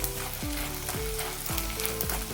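Edible gum (dink) fries in hot ghee with a dense, loud crackling sizzle, broken by four evenly spaced scraping strokes of a stirring spoon.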